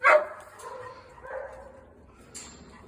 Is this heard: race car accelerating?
no